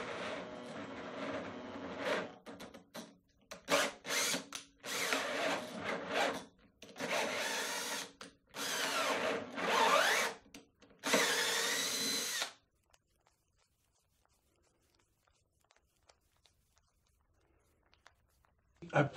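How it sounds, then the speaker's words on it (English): A power drill drives a tap into a small hole in a workshop, giving several short whirring bursts separated by pauses, loud and close, followed by near silence. "now to tap out the smaller hole, I'm just going to mount it in my drill and do it like that"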